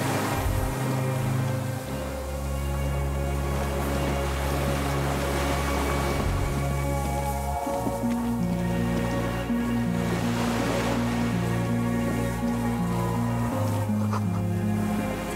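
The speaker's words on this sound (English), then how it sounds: "The distant sound of cargo ships, signal horns echo on the water." Distant cargo ships on open water in the Disco Elysium video game, with low sustained signal horn tones shifting in pitch over a constant wash of waves and surf.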